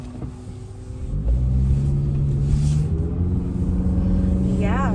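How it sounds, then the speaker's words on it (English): Road traffic and a car engine rumble steadily throughout, with a brief faint high whine near the end. "I'm sorry, there's so much traffic."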